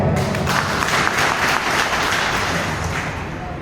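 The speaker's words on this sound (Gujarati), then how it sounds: "ફરી એકવાર જોરદાર તાળી." Audience at a comedy performance by a school-themed humourist breaks into loud, sustained applause, a dense wash of clapping that holds steady and fades slightly toward the end.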